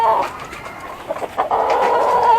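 Chickens in a small rooftop coop cluck softly, a few short calls rising over a steady background murmur, close by and fairly loud.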